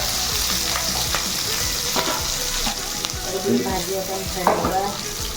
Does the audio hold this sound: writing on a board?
no